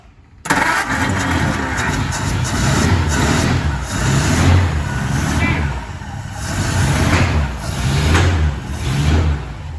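A carbureted car engine fed by an electric fuel pump cranks, catches and settles into a loud, rough idle with some revving, recorded up close under the hood.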